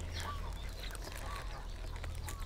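Ducks and small birds call while feeding outdoors in Hawaii, with faint scattered quacks and chirps over a constant low hum.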